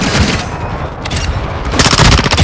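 Loud, close gunfire in Call of Duty: Modern Warfare II, dense automatic bursts blending into a continuous roar that grows heavier toward the end.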